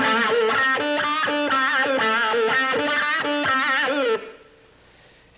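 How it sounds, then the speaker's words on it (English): Distorted electric guitar through a wah-wah pedal, playing a rhythmic run of repeated notes whose tone sweeps open and closed with each pedal movement. It sounds loud and close, then cuts off abruptly near the end, leaving a quiet tail. "And you step on this wah-wah, and then you use your foot to kind of accentuate the sound like."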